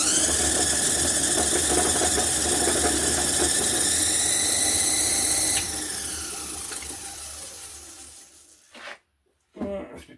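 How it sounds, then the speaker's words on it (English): An old lathe with loose, floppy bearings hums and whirs steadily at speed, then winds down and slows before a brief stop and restart, with a voice talking over it. "Because this is an old lathe, I'll keep it well lubricated because the bearings are a bit floppy."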